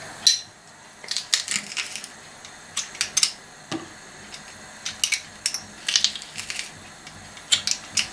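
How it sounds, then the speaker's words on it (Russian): Garlic is squeezed through a metal garlic press in a home kitchen while making a baked pork dish, giving a series of sharp metallic clicks, creaks and crunches in irregular bursts, close and fairly loud. "Я его буду выдавливать через пресс"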